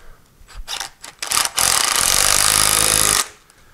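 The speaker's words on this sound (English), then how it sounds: "we got my little 12-volt DeWalt here." A small 12-volt DeWalt cordless power tool is used while rebuilding the three-jaw chuck of a Sidney lathe. A few short taps and bursts lead into a loud, steady whir of about a second and a half that then stops.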